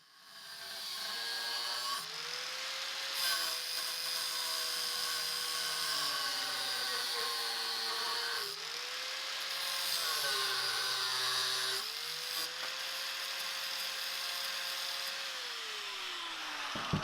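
A 4.5 inch angle grinder cuts a steel farrier's rasp into a spearhead shape, a loud close whine whose pitch dips and rises as the disc bites, in several long passes with brief pauses.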